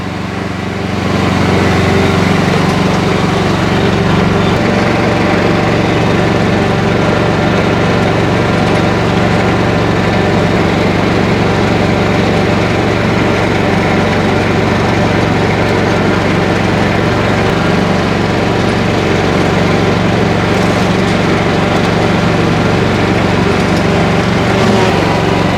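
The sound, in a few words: Razorback ride-on mower engine running on a steep slope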